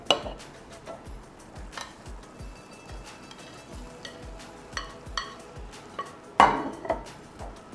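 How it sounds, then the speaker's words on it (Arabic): A utensil stirs rice and shrimp together in a pot, scraping and clinking against the metal in regular strokes with a faint sizzle underneath, close and fairly quiet. "واقلبهم مع بعض"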